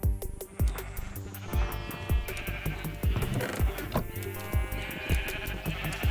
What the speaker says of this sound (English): we need to shear a couple more sheep